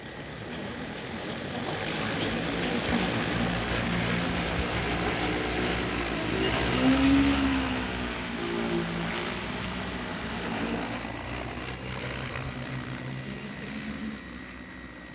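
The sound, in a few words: EAVision J150 agricultural spraying drone flying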